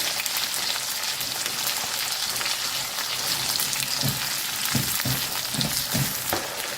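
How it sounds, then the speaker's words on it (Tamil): Soaked lump asafoetida water poured into a pan of sizzling raw mango sambar, a steady loud frying hiss with a few bubbling spurts near the end, no talk. "கட்டி பெருங்காயம் ஊற வச்சு வச்சுருக்கிறேன் அது கொஞ்சம் இதில் ஊற்றிக்கலாம்"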